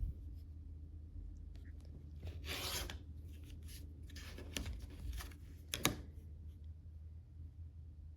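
Rotary cutter slicing quilt fabric diagonally on a rotating cutting mat, giving soft rasping strokes with a few sharper scrapes, close and fairly quiet with no talking.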